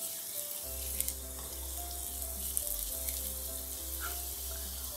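Chopped onions frying lightly in hot oil, giving a steady close sizzle with an even hiss, a low background hum and a couple of faint clinks, with no voices.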